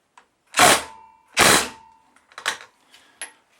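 Two loud, sharp bursts from a power tool loosening a 17mm spark plug on a Yamaha SR125, followed by a few shorter, quieter rattling hits.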